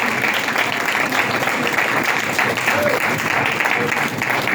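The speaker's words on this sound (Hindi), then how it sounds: "जोरदार तालियां उसकी बजाएं" A church congregation applauds loudly and continuously, a dense, even wash of many hands clapping that carries on without pause.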